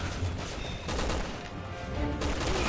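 Gunfire in the video game Resident Evil 6 comes as a dense burst of loud shots and blasts, filling the moment with a rough, continuous crackle of weapon fire.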